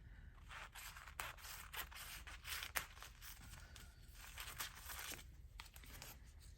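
Scissors snip and trim through fabric during stitchery work, a series of faint, irregular cuts and rustles close by with no talking.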